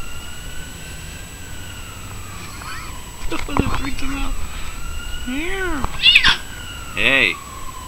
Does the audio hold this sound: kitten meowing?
yes